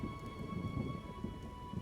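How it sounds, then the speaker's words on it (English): Steady rain patters in a video game scene from The Witcher, with low rumbling beneath and a faint constant tone above, no voices over it. "It rains and it pours."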